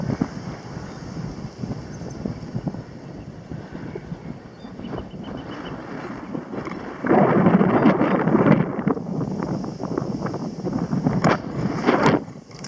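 Strong wind buffets the microphone while cycling along the Danube, a steady rough rumble that surges louder midway and stays gusty to the end, with no talking.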